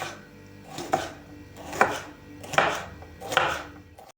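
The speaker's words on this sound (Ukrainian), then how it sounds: "Кілограм капусти нарізаємо соломкою." A knife cuts cabbage into thin strips on a cutting board in four crisp, evenly spaced strokes, close and clear with no talking.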